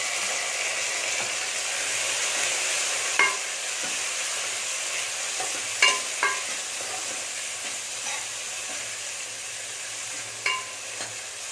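Onions and tomatoes frying in hot oil for spinach kootu, a steady soft sizzle with a few sharp clicks of a spoon against the pan, no voices.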